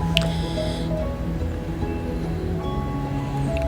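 Mutton and onions frying in a pot for mutton kunna, a steady close sizzle and squishy crackle running throughout with no talk over it.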